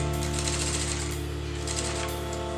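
A sewing machine stitches black piping onto a wedding designer blouse, running in a loud, continuous, fast hum close by with no pause.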